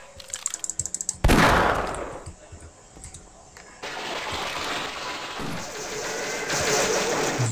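Gunfire in the video game Half-Life: a few quick clicks, then a sudden loud blast with a long rumbling tail, followed by sustained heavy noise like continuous firing or explosions that stays loud to the end.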